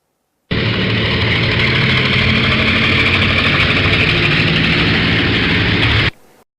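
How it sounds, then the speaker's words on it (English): A helicopter engine roars loud and steady for about five and a half seconds, starting and stopping abruptly, with no voices. "helicopter,"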